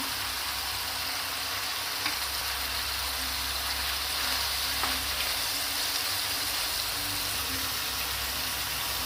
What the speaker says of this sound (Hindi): एक इसमें हम प्याज डाल देंगे।